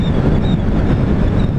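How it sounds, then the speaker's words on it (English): Wind buffets a microphone on a roadside, a loud, steady, rough rumble that fills the moment without any speech. "Oh, the wind here."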